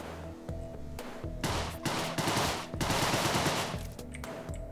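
Rapid gunfire in the video game Deadbolt while shooting out lights: dense bursts of shots over a steady electronic game soundtrack, with a few brief pauses between volleys and no talking.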